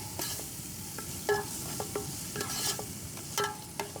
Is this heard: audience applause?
no